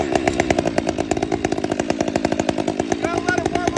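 A new Stihl 500i chainsaw starts cold for the first time with the chain brake on, its engine popping into a loud, rapid, rough idle close by, with a rattling pulse before it settles and revs slightly.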